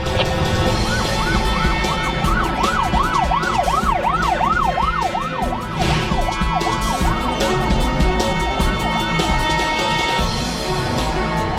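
Several police car sirens wail loudly in a crime drama chase, a rising and falling electronic yelp cycling steadily over heavy engine and traffic rumble, filling the whole stretch without pause.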